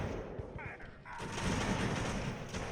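A musket volley in a land battle of the Ultimate Admiral: Age of Sail game: a loud, sustained crackle of massed gunfire that swells midway and rolls on as a dense burst to the end.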